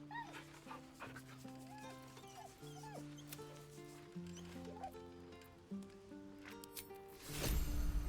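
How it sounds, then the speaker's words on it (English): A dog in the video game Baldur's Gate 3 gives soft whimpers and small yips as it is petted, set against a steady game music score, with a louder rustling burst near the end. "Pet the dog. Good dog."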